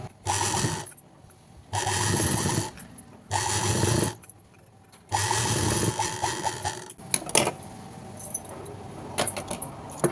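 A sewing machine stitches a thin folded fabric edge in several loud, close bursts of rapid whirring, separated by short pauses with light mechanical rattles and handling clicks.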